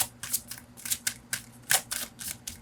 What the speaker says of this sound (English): So big, it's so hard to shuffle.